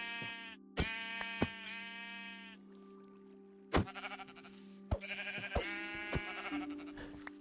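Sheep in the Minecraft video game bleat several times, wavering calls overlapping one another, with sharp clicks and a low ambient drone underneath.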